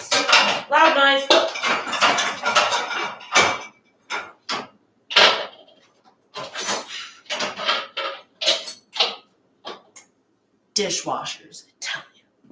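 Loud clattering of dishes and silverware being unloaded from a dishwasher and set down, in quick irregular clanks and clinks at close range, with a few quiet gaps.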